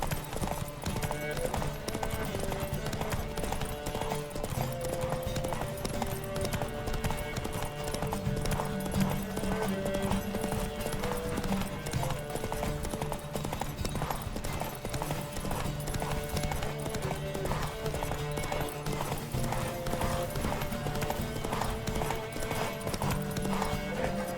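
A horse gallops in quick, rhythmic hoofbeats during a race in the video game The Witcher 3, set under a dense, constant wash of game music and ambience.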